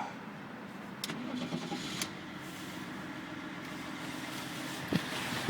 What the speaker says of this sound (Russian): Заводим машинку.